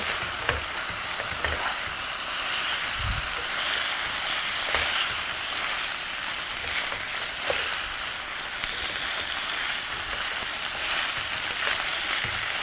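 Sloppy joe ingredients being stirred in a hot pan, a dense continuous sizzle with occasional spoon scrapes and knocks against the pan, close and steady, without talk.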